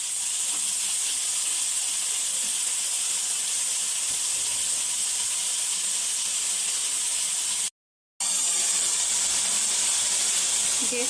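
Salted potatoes fry in a pan over a normal gas flame, giving a steady, loud hiss and sizzle that runs throughout, with one brief dropout near the end.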